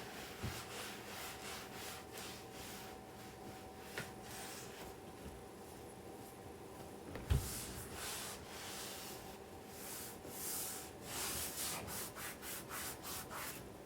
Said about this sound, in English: I'm going to just go ahead with the cloth and I'm going to wipe that off